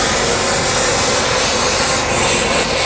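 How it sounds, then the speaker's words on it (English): A stainless steel wire brush scrubs hard against metal during babbitt bearing work, making a loud, continuous harsh scraping hiss that stays steady throughout. "This is stainless steel brush."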